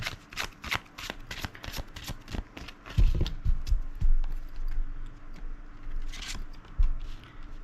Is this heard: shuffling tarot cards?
yes